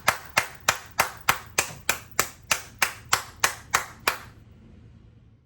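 A single person claps hands slowly and evenly about twelve times, close and crisp, then stops, leaving quiet room tone for the final second.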